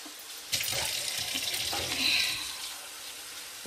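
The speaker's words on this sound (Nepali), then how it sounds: "पानी हाल्छु है।" Water splashes and pours steadily into a cooking pan in a home kitchen, close and continuous with a brief rush in the middle.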